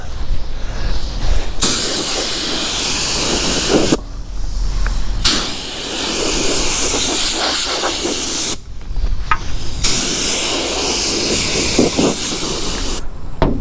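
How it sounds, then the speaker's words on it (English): Compressed air hisses from an air hose blowing dust off a freshly sanded car part in a paint shop, loud bursts of several seconds each, three to four long blasts separated by brief pauses. "Now I take my air hose and blow it off."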